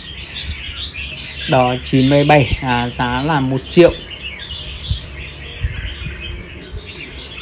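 A caged songbird sings a quick run of bright, harmonic chirps and trills up close, then falls quiet while someone talks over steady background noise.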